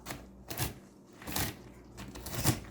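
A knife chops nuts into small chunks on a cutting board in a home kitchen, giving three or four soft, dull thuds in a loose rhythm, close and fairly quiet, without talk.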